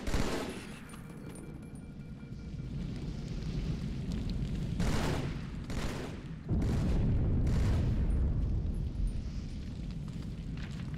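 Halo 2 combat with grenade explosions: several heavy booms and bursts of gunfire in quick succession, loud and close, over a continuous rumbling battle din.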